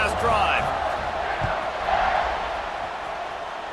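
A football stadium crowd roars and cheers during a kickoff at an Arizona versus Baylor game, a broad sustained wash of voices with a few whoops, under an announcer's talk.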